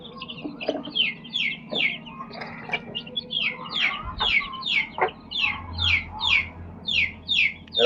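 Country chickens and hens at a poultry market cluck and chirp repeatedly in a rhythmic series of calls, with a constant low hum of crowd activity underneath.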